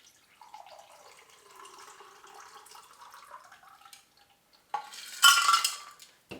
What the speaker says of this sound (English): There's a strainer built into this cobbler, so I can just pour it straight out.